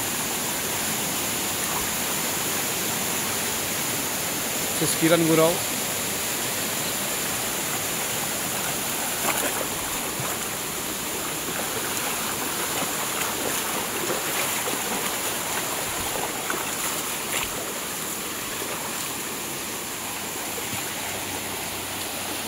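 Spring water from upslope flows down a village stream, a steady, close rushing wash that holds for the whole stretch, with a brief voice once near the start.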